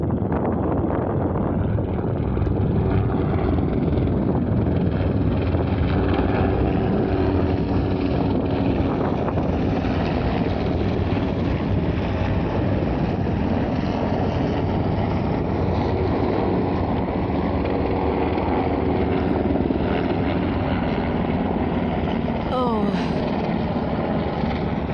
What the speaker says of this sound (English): There's one helicopter.